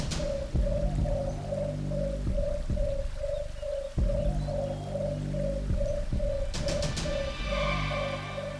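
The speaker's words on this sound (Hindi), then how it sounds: "ये पक्षी तो निशाचर पक्षी नहीं?" A bird call in a dense forest, a repeated soft cooing phrase like a dove that pulses steadily throughout over a constant low background hum and music-like drone.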